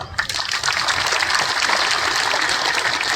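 Villagers gathered at a community meeting on property cards break into dense, steady clapping that swells quickly and carries on evenly for about three seconds, close and loud.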